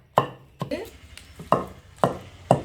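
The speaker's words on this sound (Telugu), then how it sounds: "ఇప్పుడు దీన్ని కొంచెం దంచుకుందామండి" Roasted brinjal chutney being pounded, with five heavy, sharp thuds at roughly half-second intervals, each with a short ringing decay, close and clear with no talk.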